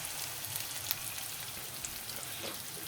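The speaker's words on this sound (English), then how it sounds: "We fried them for about 5 minutes or so." Red pine mushrooms frying until golden and crisp in a pan, heard as a faint, even sizzle with a few soft pops and no talking.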